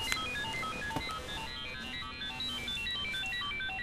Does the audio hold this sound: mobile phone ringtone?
yes